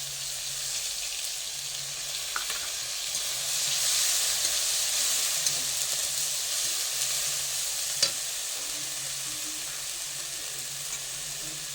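Ginger-cumin paste fries in a pan with a continuous, even sizzle and hiss, close and moderately loud, broken by a single faint tap.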